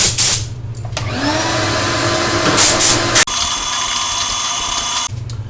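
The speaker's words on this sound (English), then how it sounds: "let's go ahead and get the shop vac and clean this out" A shop vac cleans out the inside of a Whirlpool dryer during a belt replacement, its loud steady motor roar starting up after a brief moment and running close up, with suction pitch shifting as the nozzle moves, then cutting off.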